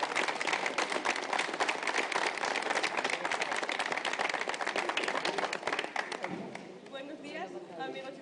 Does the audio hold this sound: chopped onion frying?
no